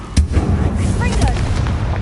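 A Confringo fire spell in Hogwarts Legacy sets off a sudden, punchy explosive boom, followed by a lingering crackling rumble.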